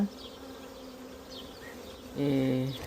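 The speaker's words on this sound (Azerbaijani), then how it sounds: "Hiss elədim ki, qoluma arı girib." A honeybee buzzes close by, a thin steady drone that grows louder and fuller near the end.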